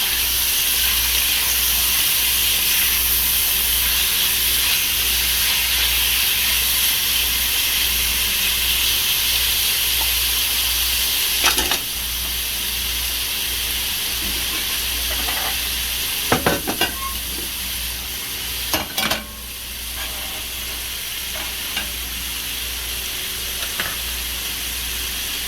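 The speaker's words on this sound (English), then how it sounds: "Listen to that sizzle." Wagyu beef chunks sear in a hot cast iron Dutch oven with a steady, loud, dense sizzle that runs throughout, broken by a few sharp pops and stirring clinks.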